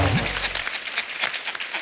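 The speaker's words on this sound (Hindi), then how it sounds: "तालियां मार दो इसमें।" A short burst of clapping and cheering from a crowd, loud and close, with a low hum fading in the first half second.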